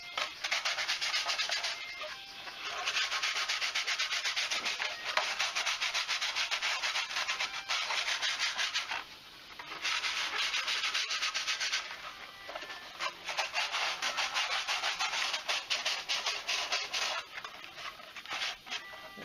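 Fiberglass clone trooper armor is rubbed down by hand with steady, close, hissing back-and-forth scrubbing strokes in long bursts, with brief pauses between passes and no talk.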